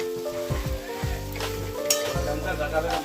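Dal being stirred in a pan on low gas, with a soft sizzle underneath, several close scraping strokes and a faint clink partway through.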